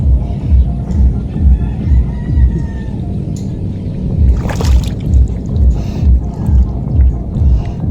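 A boat's engine runs steadily with a low, pulsing throb close by, water sloshing and wind around it, and a brief hiss-like splash partway through.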